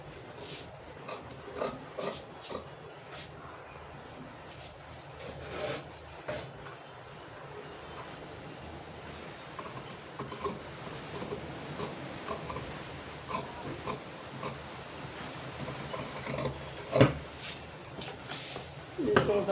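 Scissors slice through fabric to shape the neckline of a child's dress, giving close, irregular rasping snips and rubbing sounds that grow a little louder toward the end.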